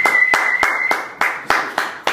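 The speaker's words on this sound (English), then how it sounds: "Let's give a big round of applause for Napoleon." Studio audience applause welcoming a talk show guest, a series of sharp claps repeating in a steady rhythm about every quarter second, close and fairly loud, with no voices over it.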